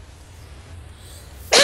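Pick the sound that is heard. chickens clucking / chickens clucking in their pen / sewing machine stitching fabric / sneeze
sneeze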